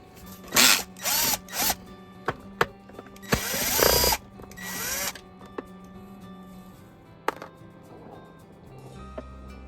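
A power screwdriver backs T10 screws out of a Shark HV382 Duo Clean vacuum, running in several short whirring bursts with a longer run midway, followed by faint clicks and handling of the plastic housing.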